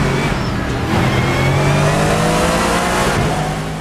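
A Mercedes GT3 race car in Assetto Corsa revs hard with a steady, loud engine drone whose pitch climbs through the gears, continuous and close for a few seconds with no talk over it.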